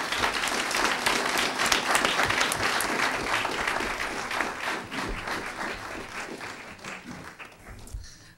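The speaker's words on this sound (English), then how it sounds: "Can we please give all of us, and especially our presenters," An audience at a public forum where scientists debate a landfill gives sustained applause, full at first and then slowly thinning and fading toward the end.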